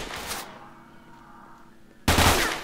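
Loud gunfire in S.T.A.L.K.E.R. Shadow of Chernobyl: a short burst, a quiet gap, then another sharp burst of shots, close and alone.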